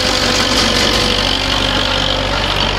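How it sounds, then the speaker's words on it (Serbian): A tractor hauling a trailer runs loud and close, its engine holding a steady, unbroken rumble with a slight knocking texture throughout, with no voices. "Nigde se njih čulo, pošto traktor bio preglasan."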